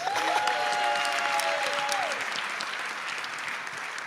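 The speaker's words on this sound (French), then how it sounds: "On acclame le Seigneur pour cela." A church congregation breaks into sustained applause, a dense, even wash of clapping heard at a moderate distance that stays steady for several seconds, with a brief sung or spoken tone drifting under it early on.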